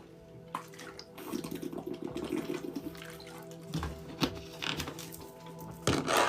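A tap runs water for drinking, a steady splashing stream with clinks and knocks of a glass or sink, rising briefly louder near the end, with no voices.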